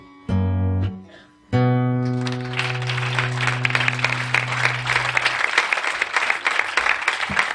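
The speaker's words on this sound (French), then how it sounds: "Je lui dirai que vous avez applaudi" A live audience breaks into applause after a comic French chanson, the song's last sustained chord ringing out before a burst of dense clapping that carries on steadily to the end.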